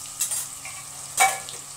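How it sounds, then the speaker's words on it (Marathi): Cumin and mustard seeds with chilli and turmeric sizzle in hot oil in an Indian kadhai, giving two short bursts of crackling spatter over a quiet, low hiss. "त्या कढईमध्ये जिरं मोहरी टाकलेली आहे, थोडीशी मिरची टाकणार आहोत आपण आता"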